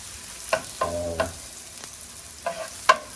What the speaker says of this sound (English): we're going to let the onions sweat a bit so the raw taste goes out